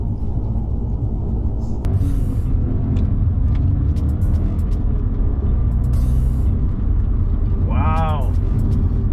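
Audi S5 with the 4.2 V8 and six-speed manual pulling hard in third gear during a highway merge, a deep steady engine roar building under road and wind noise, with a brief whistle-like rise near the end.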